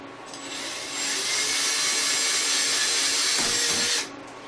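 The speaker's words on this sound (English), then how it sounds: "So I'm going to drill some pilot holes." A power drill bores a pilot hole into a wooden 2x4. A single steady whine lasts about three seconds close up and then cuts off.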